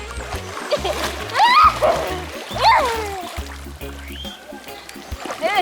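A person swims in a river, with irregular close splashes and water slaps mixed with voices calling out and talking throughout.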